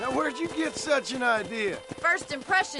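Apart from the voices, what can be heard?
No everyday noise stands out behind the speech.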